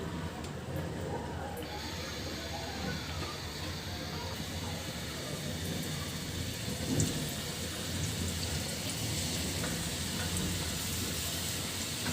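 A thunderstorm arrives with rising wind and the power out. Steady rain hisses all around, and a low thunder rumble swells briefly midway through.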